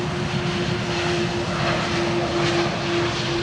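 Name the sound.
aircraft arriving on Polderbaan runway 18R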